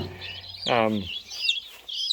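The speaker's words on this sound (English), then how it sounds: "Got some chickens going crazy over there." A chicken lets out a loud, drawn-out squawk up close, followed by softer clucking and chirps.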